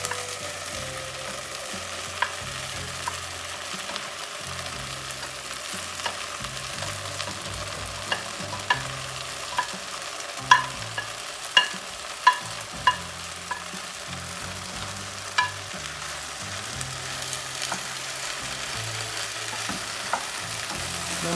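Beef with onion and pepper sizzling steadily in a pan for goulash, stirred with repeated scraping and occasional sharp knocks of the utensil against the pan, close and continuous with no talking.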